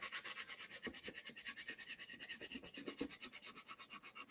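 Light hand sanding along furniture edges coated in Dixie Mud, a soft, quiet rhythmic rasp of quick back-and-forth strokes repeating steadily at close range.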